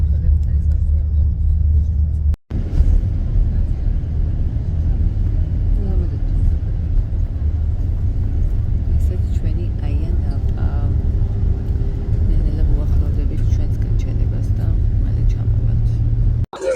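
A steady low engine rumble fills a tour bus arriving at Nissi Beach in Ayia Napa. It runs continuously and loud throughout, with a brief dropout and soft murmuring voices beneath.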